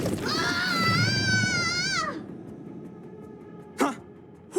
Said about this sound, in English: Did someone scream?